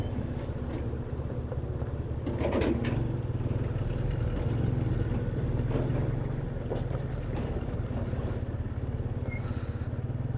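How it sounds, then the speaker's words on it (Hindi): Road traffic and a working machine near a bridge on a mountain route between Kalam and Utror, with a steady engine drone, a passing vehicle swelling in the middle, and no speech. "ट्रैफिक काफ़ी आई हुई है, मशीन काम कर रही है।"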